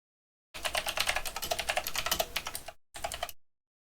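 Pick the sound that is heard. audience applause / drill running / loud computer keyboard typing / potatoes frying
loud computer keyboard typing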